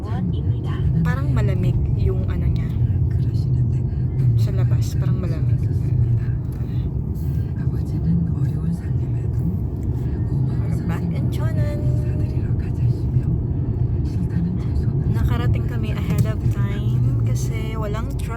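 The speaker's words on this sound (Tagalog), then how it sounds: "traffic" Steady road traffic rumbles continuously from inside a moving vehicle on the drive from Donghae to Cheonan in South Korea, a loud low drone that runs throughout beneath a person talking.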